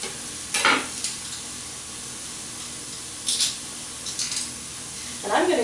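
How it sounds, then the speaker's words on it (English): Ground turkey and garlic frying in a pan, with a few short sizzling bursts and stirring scrapes over a low, steady background crackle. "I'm going to go ahead and let this cook until the turkey is browned up"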